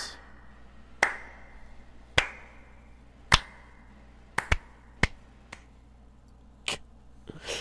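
A slow clap in an indie horror video game: single sharp, echoing claps spaced about a second apart, around eight in all, over a low steady hum.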